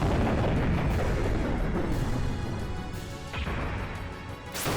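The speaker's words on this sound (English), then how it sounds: "Using our ship as a cannon." A ship-mounted cannon fires in the Xenogears video game, a heavy booming blast followed by crashing, rumbling impacts and a sharp final burst, loud and dense with no speech.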